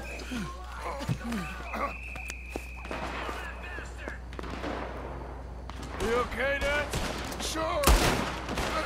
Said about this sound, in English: Now I be shooting everybody's hats off by accident.